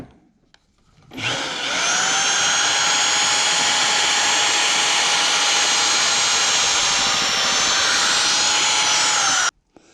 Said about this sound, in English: let's pretend we're drilling the hole. Take 2 drilling.